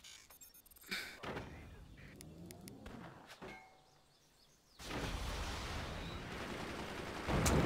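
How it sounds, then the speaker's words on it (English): Rapid machine gun bursts from base-building artillery game Forts, crackling amid scattered impacts and thuds, with a dense sustained barrage of firing in the final seconds. "He's got tons of machine guns up in Fort now."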